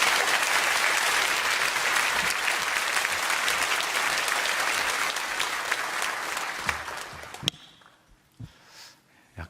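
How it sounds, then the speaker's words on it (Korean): A church congregation applauds loudly to welcome a visiting pastor at a special evening revival service, dense sustained clapping filling the hall before tapering off into a few scattered claps and near silence. "환영으로 큰 박수로 목사님을 좀 맞이해 주시면 감사하겠습니다"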